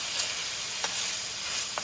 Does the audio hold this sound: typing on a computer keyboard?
no